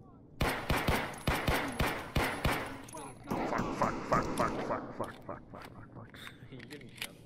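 Gunfire in the video game Escape From Tarkov, a rapid string of about ten sharp shots followed by softer, scattered bursts and echoing impacts, with a player's hushed voice underneath.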